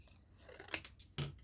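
Scissors snip paper while trimming a small leaf shape for a stamped flower card, two quick, close, crisp cuts in a quiet room.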